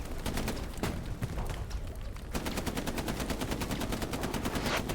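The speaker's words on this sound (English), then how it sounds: "that's a tank shooting as well" Heavy battlefield gunfire from the World War II shooter Hell Let Loose, with a tank cannon among the shots: dense, rapid cracks and rattling bursts fill the whole stretch at steady loudness, with a sharper, heavier blast about a third of the way in.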